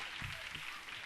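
Applause for young performers on a live televised talent show: a broad, even wash of clapping from a large audience, heard faintly and distantly under low background sound.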